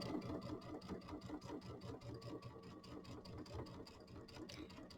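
Sewing machine stitching binding onto a mini quilt with a quarter-inch seam, a steady rapid needle rhythm running close and continuous throughout with no talking.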